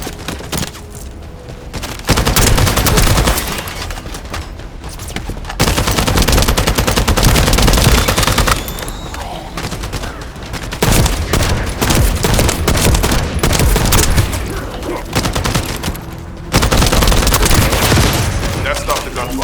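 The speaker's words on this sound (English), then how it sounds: "That stopped the gunfire" Gunfire in the video game The First Descendant: loud bursts of rapid automatic fire and shots in repeated waves, with brief quieter gaps between volleys.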